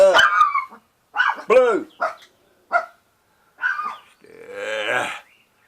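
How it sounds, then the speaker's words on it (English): Small dogs yapping in loud, shrill bursts, several sharp barks in quick succession close by, with a person speaking briefly among them. "I swear them dogs, Beast Maw's got the loudest little shrill bark"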